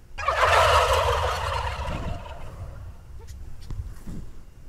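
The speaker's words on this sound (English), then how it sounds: "Sounds like a turkey. That's cause it is. It's a wild turkey." A wild turkey gobbles loudly and up close in one rapid rattling burst, then fades into quieter outdoor background with a few faint clicks.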